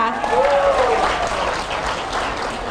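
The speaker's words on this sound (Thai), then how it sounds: "ขอเสียงปรบมือให้แม่เพลงของชาติด้วยค่ะ" A room full of people applauds in honour of teachers, a loud sustained round of clapping that starts with a voice briefly over it and then tapers slightly.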